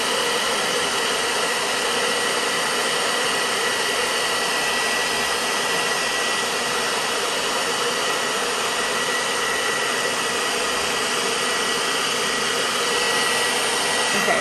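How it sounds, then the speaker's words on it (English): Hair dryer blowing hot air steadily onto vinyl applied to a painted canvas, a constant close whooshing hum with no pauses. "have my hair dryer here too"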